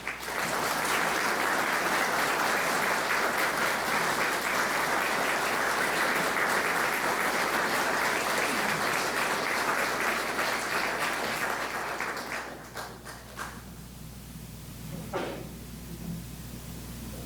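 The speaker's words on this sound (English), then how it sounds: "Could we please have a round of applause for Master Warrant Officer Surridge?" Sustained applause from an audience honouring a Master Warrant Officer at a museum veterans' tribute in Owen Sound, steady and dense for about twelve seconds before thinning out to scattered claps and fading.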